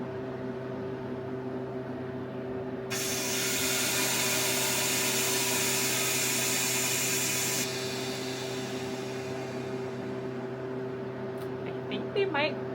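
A vacuum pump on a home freeze dryer starts abruptly with a loud steady mechanical whir, runs for several seconds, then cuts off, leaving a low constant hum.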